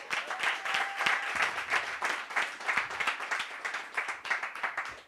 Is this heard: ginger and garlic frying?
no